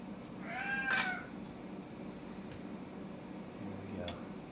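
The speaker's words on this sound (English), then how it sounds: "Got a cat here that's very disturbed." A cat that seems very disturbed lets out one loud, drawn-out meow near the start, with fainter mews after it, all over a steady room hum and quiet background noise.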